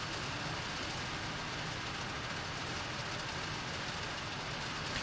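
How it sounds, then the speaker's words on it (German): Rain in the city-building game Workers & Resources plays as a constant, even hiss of falling water. A low rumble sits underneath, and the sound stays level and unbroken throughout. "Ja, es regnet schon wieder."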